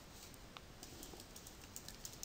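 Faint, quick keystrokes on a computer keyboard tap out a name in rapid irregular clicks against a quiet hiss.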